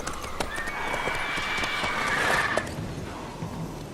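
Roach, the horse from The Witcher 3, clip-clops and snorts close by, a steady run of hoof sounds with a brief whinny-like cry near the middle, set against a game ambience.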